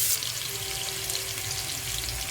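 Finely chopped medium onion frying in oil for mixed vegetable kurma, a steady close hiss and crackle that stays even for a couple of seconds, with no speech.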